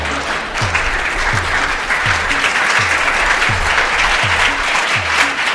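An audience at a Hindu satsang spiritual gathering claps together in a dense, loud, sustained round of applause, with no talk over it.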